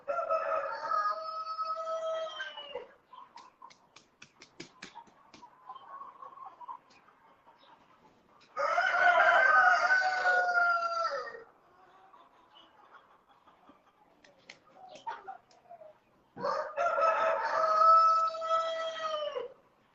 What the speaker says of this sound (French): les plus gros poulets du Cameroun